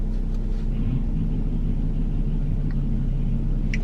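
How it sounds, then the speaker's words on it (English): A car parked nearby rumbles steadily with a low, constant engine drone that holds at an even level throughout, with no voices over it. "Oh, it's that car back there."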